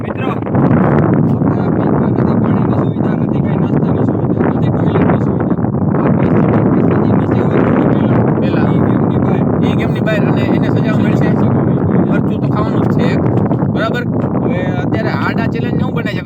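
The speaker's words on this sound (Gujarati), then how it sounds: "પવન તો તમે કેમેરામાં સંભળતા જો ભેગું માઇક નથી" Strong, steady wind buffets an outdoor camera microphone with no windscreen on a cold day, a loud continuous roar and rumble that runs throughout while people talk over it.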